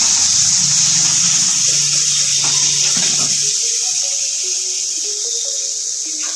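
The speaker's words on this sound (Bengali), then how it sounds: "নেড়ে চেড়ে এবার আমি জল দিয়ে দেবো।" Water poured into a pan of Bengali fish curry (macher jhal): a steady splashing gush runs close and continuous for several seconds, then settles into a quieter trickle amid kitchen hiss.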